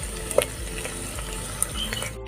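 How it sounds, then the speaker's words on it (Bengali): Onions sizzling in hot oil in a pan, a close, continuous crackling fry with occasional light stirring clicks and no voices. "তেলটা গরম হয়ে হচ্ছে, পেঁয়াজগুলো দিয়া দিলাম।"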